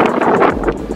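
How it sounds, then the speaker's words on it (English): Gusty wind buffets the microphone in a short, rough burst of low rumbling noise. "It's windy today."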